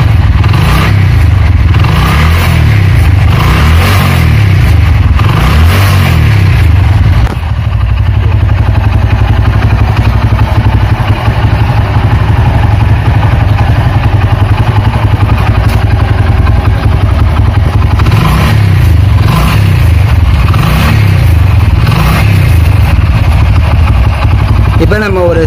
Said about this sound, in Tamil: இன்ஜின் ரைஸ் பண்ணுறேன்.